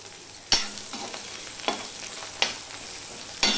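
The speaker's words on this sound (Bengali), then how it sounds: "এই পেঁয়াজটা আমি একটু লাল লাল করেই ভেজে নেব" Chopped onion and green chillies frying in a pan for a Bengali ridge gourd and potato dish, a steady close sizzle broken by four sharp stirring scrapes, with no talking.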